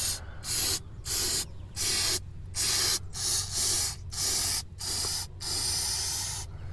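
Flex Seal undercoating sprayed onto the underside of a car to keep rust off, in about nine loud, close hissing aerosol bursts with short pauses between them and no talk.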